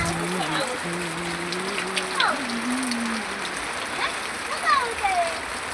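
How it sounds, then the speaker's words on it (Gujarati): Heavy summer downpour pours steadily in a broad, even hiss, with a voice talking over it throughout. "ખૂબ જ વરસાદ પડે છે ઉનાળામાં"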